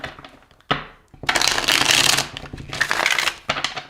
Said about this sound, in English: I have to shuffle the deck a lot